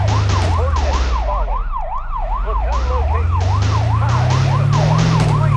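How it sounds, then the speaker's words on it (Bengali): A loud video game police car siren wails steadily in a repeating up-and-down pattern over a low engine rumble, with no talking. "এই গাড়ি না, এই গাড়ি না, পুলিশের গাড়ি, পুলিশের গাড়ি।"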